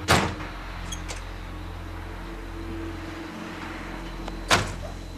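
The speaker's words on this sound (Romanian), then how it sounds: "Chide-vă ușa." A car door slams shut twice, sharp thuds near the start and end, over a steady idling engine hum.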